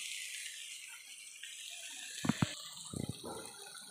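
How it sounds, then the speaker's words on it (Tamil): Water pours into a cooking pot in a soft, steady hiss, with a few dull knocks of a vessel near the end; quiet and without speech. "இப்போ இதில் வந்து நான் ஆறு கிளாஸ் தண்ணி ஊற்ற போகிறேன்."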